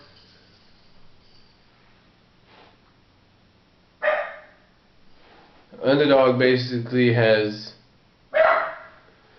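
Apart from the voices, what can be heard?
dog barking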